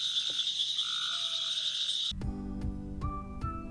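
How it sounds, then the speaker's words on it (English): Several frog and toad species call at night from a small pool: a steady high trilling chorus with short whistles, then a sudden switch to loud, repeated, rhythmic croaks nearby. "11 frogs and toad species in this one little pool."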